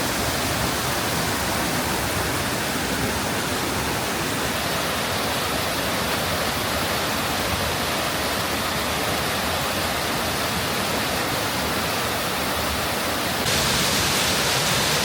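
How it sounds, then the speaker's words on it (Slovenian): Large waterfall in the Soča valley of Slovenia, a loud, unbroken rushing roar of falling water heard alone and steady throughout. "to največje slapišče v Sloveniji"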